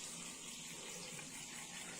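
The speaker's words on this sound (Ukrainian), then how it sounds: "Отаке, Отака вода у нас почала текти." Spring water flowing from a well in springtime, a steady faint rushing and gushing of water, continuous and even for the whole short stretch.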